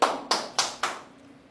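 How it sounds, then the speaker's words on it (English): Four sharp hand claps at a steady, slightly slow rhythm, close and distinct, trailing off into a quiet church hall with no talking. "Clap for me"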